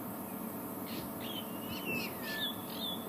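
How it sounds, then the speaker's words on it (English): A giant eagle owl, female or juvenile, calls at sunset on an African safari. Several thin, high whistling squeals repeat at a distance over a quiet bush backdrop. "It is a giant eagle owl,"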